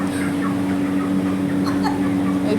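Chickens at a poultry shop in Kuwait, faint scattered clucks over a loud steady mechanical hum, close and continuous.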